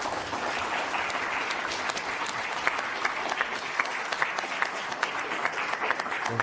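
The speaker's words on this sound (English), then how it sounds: "Can we give them a round of applause?" Audience at a STEM careers panel event applauds its seven panelists: a continuous wash of many hands clapping, moderately loud, with a few sharper individual claps standing out.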